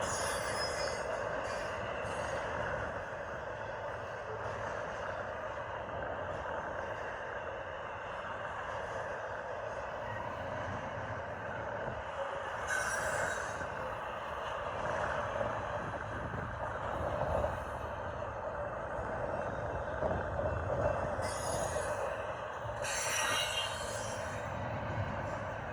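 A Union Pacific intermodal freight train rolls steadily past in strong wind, its wheels making a continuous rumble and screech of cars, with faint repeating thumps from a flat spot on a wheel, heard from a moderate distance.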